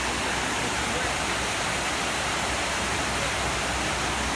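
Water pours steadily into the 9/11 memorial pool in New York, a continuous broadband rushing roar that stays loud and even from start to end.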